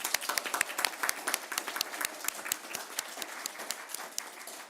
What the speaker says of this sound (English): We'll give you all one more round of applause.